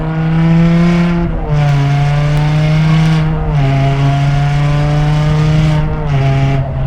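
Supercharged BMW M5 accelerating hard, its engine roaring loudly and rising steadily in pitch through each gear, with several brief drops at the shifts, heard close from inside the car.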